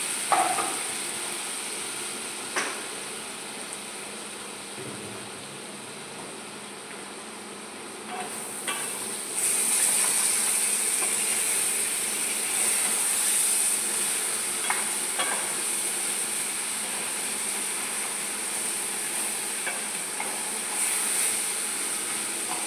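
Ginger garlic paste fries in a pan for egg biryani, a continuous hissing sizzle with occasional spoon scrapes and knocks from stirring, steady and close with no talk.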